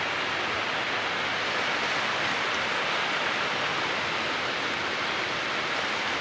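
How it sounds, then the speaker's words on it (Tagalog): Heavy rain pours at the sea during typhoon Christine at high tide, a loud, dense, continuous roar of water with no breaks, close and enveloping. "Ayan naman, bumuhok naman yung ulan guys."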